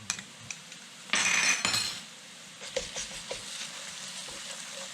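Garlic tipped into diced yellow onion already sauteing in a pan, giving a sudden loud sizzle and clink of a utensil that fades over a second, then a quieter steady frying crackle with small scraping sounds.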